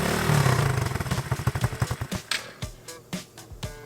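A Coleman AT125x youth ATV engine sputters and slows, its loud close putter breaking into uneven, spaced chugs as it dies, with no talking.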